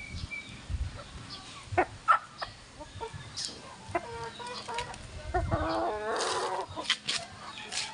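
Young gamefowl, about three months old, of sweater pumpkin hatch breeding, clucking and calling in a farm yard, with several short bird calls scattered over steady background noise and a rooster-like call near the end.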